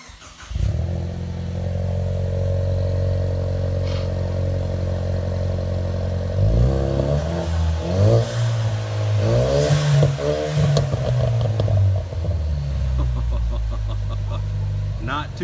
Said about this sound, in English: let's crank this puppy up, see how she sounds